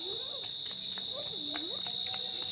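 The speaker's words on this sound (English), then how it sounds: "I hope you enjoy the song of cricket and dance of this cricket." A cricket stridulates in a steady, continuous high-pitched trill that holds evenly throughout at moderate level, with faint background chirps and sounds underneath.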